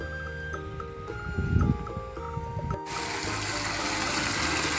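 Water from a grass watering system in a park splashes and trickles steadily, turning into a continuous hissing gush after a few seconds, with a low mechanical hum in the background.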